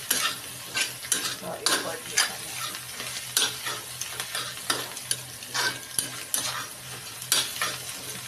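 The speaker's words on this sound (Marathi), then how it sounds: "छान हलवून घेऊया आपण।" Chutney spices and chili powder being stirred in a frying pan: rhythmic scraping strokes of a spoon, roughly one per second, over a soft continuous sizzle, close and moderately loud.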